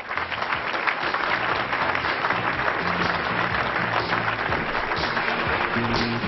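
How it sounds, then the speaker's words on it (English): Sustained audience applause fills a political summit hall for a speaker, dense steady clapping from a large crowd with no pauses, loud and close throughout. "a big round of applause for Luke Hilgemann"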